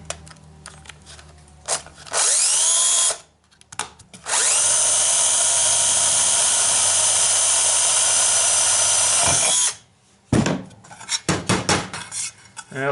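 A drill bores a hole in an aluminum part near a refrigerant leak, giving two loud sustained high whines, the second long and steady, framed by clattering and metallic knocks of the tool and workpiece.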